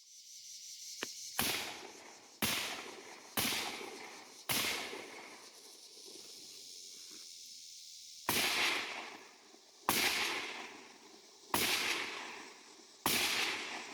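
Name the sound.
gunshots from BCA 7.5-inch MLOK AR upper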